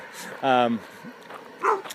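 A single nearby dog bark, loud and brief, followed by a second shorter yip amid quiet background.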